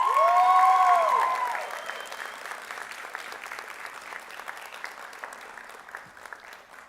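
An audience at a National Honor Society induction ceremony claps for the newly elected executive council, loud at first with a brief whistling tone, then fading to scattered, thinning applause.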